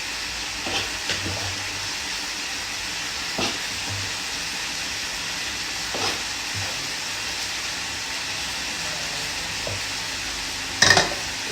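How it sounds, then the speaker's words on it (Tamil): Dosa batter frying on a hot pan, a steady low sizzle and hiss running throughout with a few soft clinks and scrapes of a utensil, the last one louder near the end; no talk. "கொஞ்சம் தோசை வச்சுடுவோம்."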